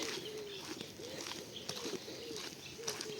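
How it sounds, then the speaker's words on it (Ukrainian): Small birds calling at a pond outdoors, repeated soft cooing and chirping notes at a moderate distance over a breezy background, with a few faint thumps like footsteps. "І всякі пташечки на ставі."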